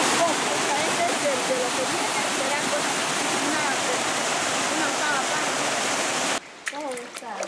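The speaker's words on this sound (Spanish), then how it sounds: "En esta vivienda el agua que se deslizaba del cerro parecía una catarata." Rainwater pours down a hillside onto a house during a flood, a dense, steady rush like a waterfall with a voice speaking over it, cutting off abruptly near the end.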